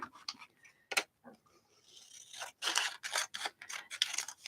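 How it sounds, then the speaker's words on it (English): Scissors snip off the end of a paper doll, a few sharp, close cuts in quick bursts with short pauses between them, and no talking. "Okay, we'll just cut this end off."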